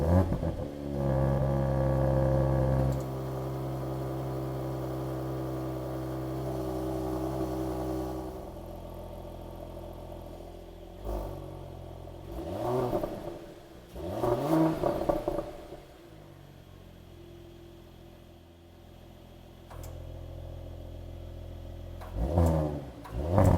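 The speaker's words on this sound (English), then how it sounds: "what Emotion Start does is basically start the car and rev it slightly higher" A 2021 Mercedes-AMG GLE 53 SUV engine fires up and settles into a rumbling idle, then revs briefly several times, each burst rising and falling back to idle.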